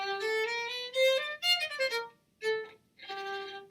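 A solo violin plays a short phrase from Becker's Gavotte, sustained notes close up, shifting cleanly from B natural to C natural, gliding smoothly between pitches, with a pause before the final notes.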